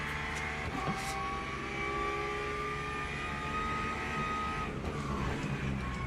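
A racing car engine in first gear in a sim racing game at Spa hums as a steady, moderately loud drone with a pitch that climbs slightly and then settles.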